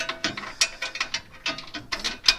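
A ratchet runs bolts through angle iron, a caster and quarter-inch plate into a US General side locker bumper, giving off rapid, close, rhythmic metallic clicking in repeated short strokes.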